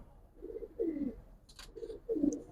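Giribaz and coloring pigeons coo softly nearby in a few low, throaty phrases, with a faint higher chirp between them.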